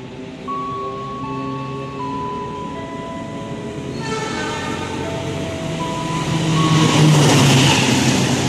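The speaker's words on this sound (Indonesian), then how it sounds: "Satu barat melintas langsung kereta api Bima." A Bima passenger train races straight through Buaran station on double track, its steady rolling roar and wheel rumble swelling louder toward the end as it nears, with tonal horn or brake harmonics ringing throughout.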